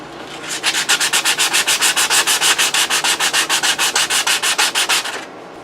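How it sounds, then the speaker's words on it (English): Steady back-and-forth sanding strokes with 180-grit sandpaper on a steel knife blade, about five per second, rasping loudly and evenly for several seconds before stopping abruptly. "rough sanding everything out"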